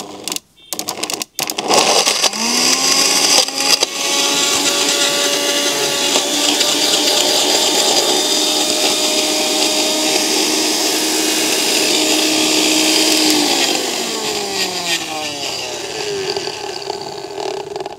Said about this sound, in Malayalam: നമ്മളിനി ഇതേ മിക്സിയിൽ വെച്ച് അടിച്ചത് നല്ല മിക്സാക്കി കുഴമ്പ് പരിവാവും നോക്കുകയാണേ